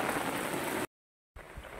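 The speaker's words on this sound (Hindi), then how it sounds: "बारिश हो रही है" Steady rain falls on flowering garden plants, including a zinnia, as a dense continuous patter that cuts out briefly, then resumes at a similar level.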